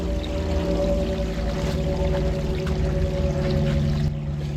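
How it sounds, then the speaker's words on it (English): Water drains steadily from the unscrewed bottom plug of a Craftsman wet vac, a continuous close gurgling pour with a low hum running through it and no break. "And then you can let all the water out."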